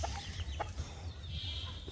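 Hens being fed on a rainy day cluck quietly in short, scattered calls over a soft background.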